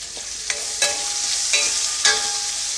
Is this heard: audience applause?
no